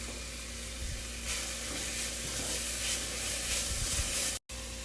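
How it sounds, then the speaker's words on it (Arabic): Carrots and onion frying in a pan with dill for Iraqi tajine, a loud, continuous close sizzle with faint stirring scrapes and a sudden brief break near the end. "بعد ما حمست الجزر كويس مع البصل راح أحط الشبت."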